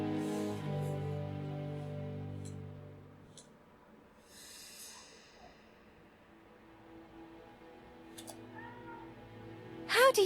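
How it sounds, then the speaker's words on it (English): A household cat in the video game Agatha Christie: The ABC Murders gives a few drawn-out meows, moderately close against quiet game background, with a sharper cry at the very end. "There is no need to worry about the household cat."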